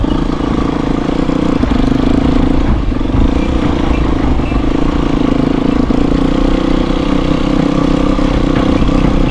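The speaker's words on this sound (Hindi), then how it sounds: "बहुत ही मोटरसाइकिल स्लिप हो रही है।" A motorcycle engine drones loud and steady on a muddy, boggy off-road track near Malir Expressway, with the bike slipping in the mud and a rough clatter under the constant rumble.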